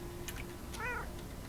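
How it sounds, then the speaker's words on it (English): A cartoonish cat meow plays as the damage sound from a Terraria vanity item in the video game, a single short close mew over quiet background hum. "I have 2 damage sound vanity items here. I think I'll put on the cat one for now."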